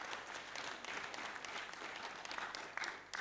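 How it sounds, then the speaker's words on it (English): A live audience at a PERL Nigeria event applauds its speakers in a dense, sustained wash of clapping at moderate volume, with a few sharper claps rising near the end. "Can we once again give the speakers a sounding round of applause,"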